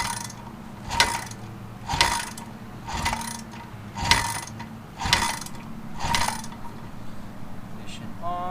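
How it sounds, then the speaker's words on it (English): Six or seven evenly spaced mechanical kicks on the kick starter of a barn-find Honda CB750 motorcycle with the ignition still off, each a sharp ratcheting clunk about a second apart, close and loud against a low background hum. "Couple prime kicks."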